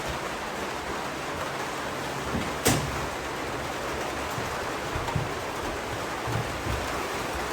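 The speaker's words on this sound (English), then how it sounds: "Yes, it's raining." Steady rain falls on a parked flying boat aircraft, heard from inside as a constant hiss of patter with a faint thump or knock part way through.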